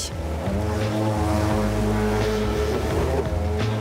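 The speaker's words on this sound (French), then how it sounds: "le jet surf, une planche avec un moteur intégré" A motorized jet surf board runs on a lagoon in Tahiti, its engine a steady, loud droning hum with tonal whine, continuous throughout over wind and water wash.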